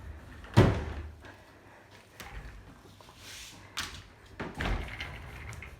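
A hotel room safe door slides and bumps shut in a Royalton luxury resort room in Negril, Jamaica, giving a few muffled thuds and knocks with soft scraping between them, fairly close.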